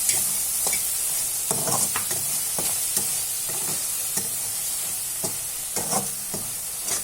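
Ground coriander and turmeric sizzling in hot oil in a pan, a loud continuous hiss broken by scraping strokes of a spoon stirring the spices.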